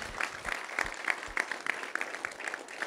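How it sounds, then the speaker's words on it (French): A church congregation claps for its leadership team in a soft, fairly distant patter of steady applause, with a few louder individual claps standing out and faint voices mixed in. "On peut les applaudir"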